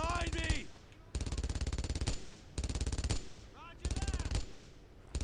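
Bursts of rapid machine gun fire in the World War II shooter Brothers in Arms: Earned in Blood, several loud sustained volleys separated by short pauses, with shouted voices between them.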